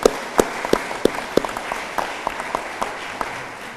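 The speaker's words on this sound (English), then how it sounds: "Let's give them a round of applause." Scattered audience applause for students at an evening event, a thin ripple of claps with a few sharper distinct hand claps standing out, fairly light and brief.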